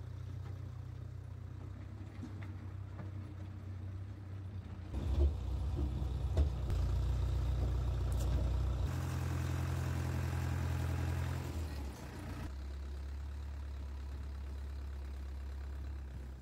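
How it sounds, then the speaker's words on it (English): A backhoe engine runs steadily while backfilling post holes for a pole barn woodshed, a continuous low rumble that swells and shifts in pitch as the machine works, with no talk. "Lucky for me, my backhoe makes short work of this."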